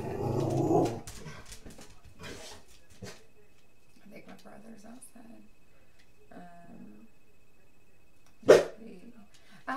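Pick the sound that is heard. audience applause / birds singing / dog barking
dog barking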